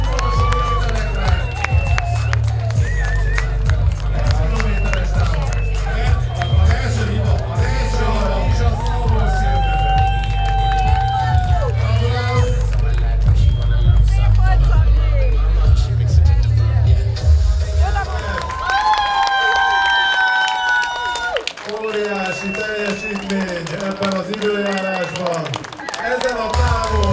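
A crowd cheers and applauds as a half-marathon runner reaches the finish at a Dabas running day, a loud bustling din under a male announcer's voice and booming music.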